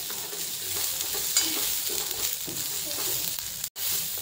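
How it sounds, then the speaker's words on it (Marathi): Pigeon pea (tur) beans roast in a kadhai, giving a soft, continuous dry sizzle with faint scraping stirs, fairly quiet and steady, with a brief dropout near the end. "आणि त्याच कढईमध्ये तुरीचे दाणे सुद्धा भाजून घ्यायचे."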